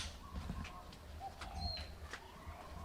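Outdoors on an island garden with avocado trees, a bird gives a few soft, dove-like coos, faint and distant, over a quiet ambient background.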